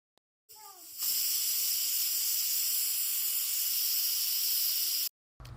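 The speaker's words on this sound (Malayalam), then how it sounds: "1 ഉള്ളിയാണ് ഞാനിവിടെ ചോറിന് വേണ്ടി ചേർത്ത് കൊടുക്കുന്നത്. ഇനി നന്നായി അതൊന്ന് വഴറ്റിയെടുക്കാം." Onion hitting hot oil with fenugreek in a pan for Wayanadan-style Kushka rice, bursting into a loud, steady sizzling hiss that holds for about four seconds before cutting off, with a faint voice briefly before it starts.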